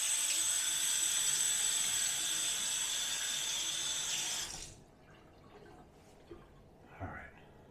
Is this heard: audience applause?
no